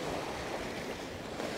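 Ocean surf at Pandawa Beach in Bali, a continuous, loud wash of breaking waves with wind noise on the microphone.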